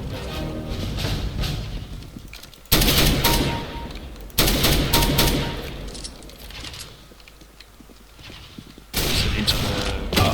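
Shotgun fire in CS:GO on the custom map AWP_Lego_X: loud, abrupt blasts at irregular intervals, each followed by a dense rattling tail, with other game sounds in between.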